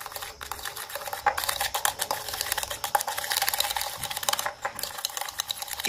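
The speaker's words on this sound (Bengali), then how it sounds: "এবারে এই চিনির সাথে সরষের তেলটিকে যতটা পারবো মিশিয়ে নেব" A spoon mixing sugar with mustard oil in a small bowl, continuous gritty scraping and clicking, close and steady, no talk.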